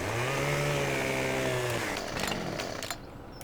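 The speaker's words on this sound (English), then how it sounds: "I'm just going to start a chainsaw behind you." Chainsaw in a video game starts up with a loud, close, high revving whine that drops away after about two seconds, leaving rougher mechanical clatter and sputtering that fades out at the end.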